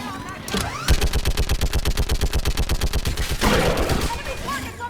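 A mounted gun in the video game Mass Effect 3 fires a long, steady rapid burst of evenly spaced loud shots lasting about two and a half seconds, with battle noise before and after.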